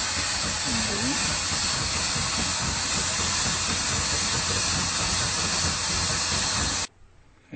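A fan blowing air to cool freshly roasted coffee beans from a halogen turbo oven, a loud steady broadband rushing hiss held for about seven seconds before cutting off abruptly into near silence.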